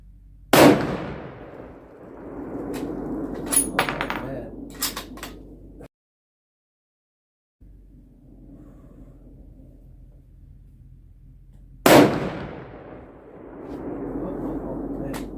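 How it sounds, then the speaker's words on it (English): Ruger Guide Gun in .375 Ruger with a 20-inch barrel firing Hornady DGS and DGX bonded factory ammunition outdoors: two sharp, loud rifle shots about eleven seconds apart, each followed by a rumbling echo, with faint background sounds between them. "Hornady DGS and DGX bonded rounds out of the 20-inch barrel Ruger guide gun"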